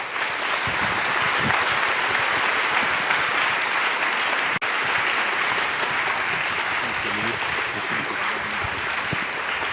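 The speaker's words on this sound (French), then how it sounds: "Je pense qu'on peut vraiment applaudir et vous remercier, Monsieur le Ministre." An audience applauds a French minister with sustained, dense clapping that stays steady and full throughout, with a brief sharp pop near the middle.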